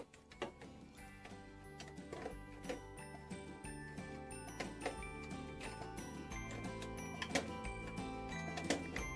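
A winch on a plastic Fireman Sam toy lighthouse is wound, giving faint, steady ratcheting clicks and gear ticks in a regular rhythm, close but quiet.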